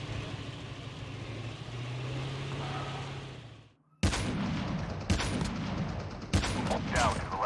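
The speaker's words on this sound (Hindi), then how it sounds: "कोई बहुत दूर से स्नाइपर मार रहा है" Gunfire in the Call of Duty Mobile video game, with sharp cracks from a distant sniper rifle cutting through steady in-game background noise, three or four shots spaced a second or so apart.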